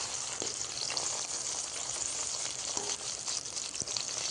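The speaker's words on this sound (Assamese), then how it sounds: "মাত্ৰ ভেন্দিখিনি অকণমান ভাজি আছোঁ" Okra frying in oil in a kadai gives a steady, fairly soft sizzle with a few faint stirring clicks. No one speaks.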